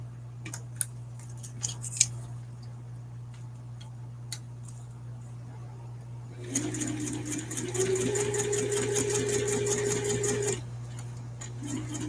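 A sewing machine stitches fabric for a lanyard ID holder, starting with sparse ticks and clicks, then running in a steady, fairly close mechanical whir for a few seconds before stopping.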